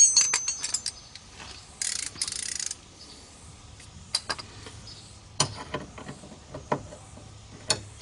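A wrench works on banjo bolts on an Audi allroad fuel filter, producing sharp metallic clicks, ratcheting bursts and scattered clinks at close range with quiet gaps between.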